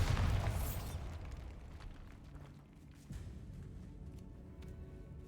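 A Bombarda explosive spell from Hogwarts Legacy goes off with a loud, deep burst in the first second, then a sharp hiss and crackling debris fade into low game ambience, with a smaller thump near the three-second mark.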